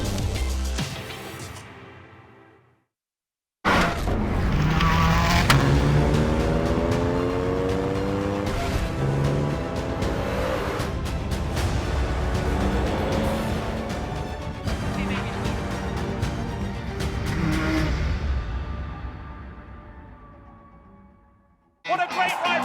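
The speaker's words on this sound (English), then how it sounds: "A fantastic bit of Formula One history to drive here at Goodwood, up the hill" A historic Formula One car driving up the hill at Goodwood Festival of Speed: a loud, close engine revs and rises in pitch through repeated gear changes. It drops briefly near the start and fades away at the end.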